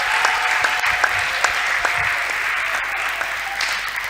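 A crowd at a church event applauds loudly and steadily, with scattered sharper claps standing out from the dense, continuous clapping.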